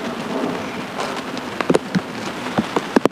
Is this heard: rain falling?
yes